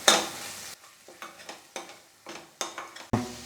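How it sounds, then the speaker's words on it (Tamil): A spoon scrapes and stirs masala with garam masala, turmeric and salt in a sizzling pan, coming as a string of short, close strokes with light frying hiss, and no one speaking. "எல்லாத்தையும் சேர்த்து சும்மா 1 நிமிஷம் வதக்குனா போதும்"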